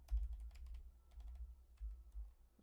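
Quick clatter of computer keyboard typing, key taps coming in uneven bursts close up, with a steady low hum underneath and no talking.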